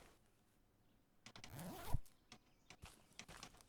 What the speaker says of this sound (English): That made a very jeans zipper sound